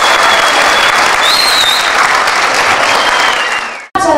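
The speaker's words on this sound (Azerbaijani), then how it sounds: "Tədbirdə hazırlanmış çıxışlar tamaşaçıların alqışları ilə qarşılandı" Dense, sustained audience applause at a public performance event, steady and loud for about four seconds before cutting off abruptly, followed by a brief return of sound.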